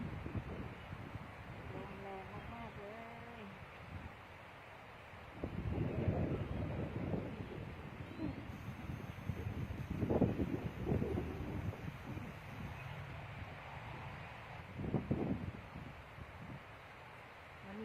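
Strong wind buffets an outdoor microphone under sun and open sky, giving a steady roar with louder gusts that surge and fade as someone talks through most of it.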